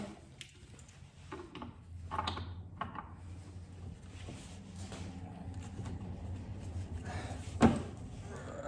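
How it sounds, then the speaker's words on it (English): Leatherman Super Tool heavy duty pliers being used to tighten something as hard as possible. Close metallic creaks and squeaks of strained effort over a low hum, ending in a sharper click near the end. "Let's see if I can get any more torque out of the super tool."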